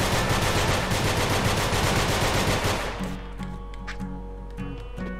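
Rapid automatic gunfire from the video game Nongunz rattles loudly and continuously for about three seconds, then cuts off, leaving a few sparse electronic blips over a low hum.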